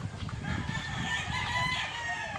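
A five-month-old Kelso gamefowl rooster crows once nearby, a fairly faint, drawn-out cock-a-doodle call over a background of other clucking fowl on a breeding farm.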